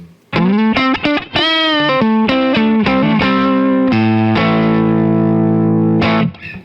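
A USA-made PRS electric guitar played through a humbucker pickup with a distorted, effected tone, rendered as a loud run of quick picked notes that settles into a sustained ringing chord, with no talking.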